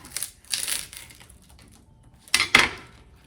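Two short bursts of a knife cutting through baked gluten-free cottage cheese flatbread, a crisp crunching scrape near the start and a sharper one near the end, with quiet between.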